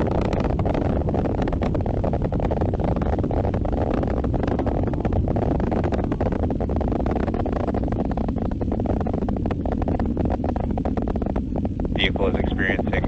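Dense, steady roar of a SpaceX Falcon 9 rocket in supersonic flight during the Sentinel-6 launch, a continuous broadband rumble with crackling texture throughout, loud and unbroken.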